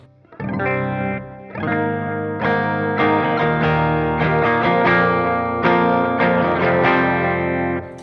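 Electric guitar chords ring out through a pitch-shift pedal tuning them down half a step, strummed and sustained with a thick, shimmering, slightly doubled tone.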